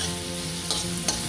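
Minced meat frying with ginger-garlic paste sizzles steadily in a pan while being stirred, two quick scraping strokes of the utensil standing out over the constant crackle, close and without voices.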